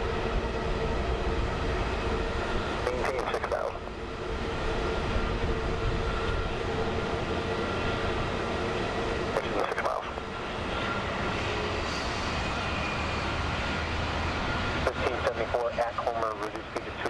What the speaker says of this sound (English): we're going to have a Alaska Airlines 737 followed by a United Airlines